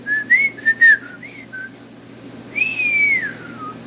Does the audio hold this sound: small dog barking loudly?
no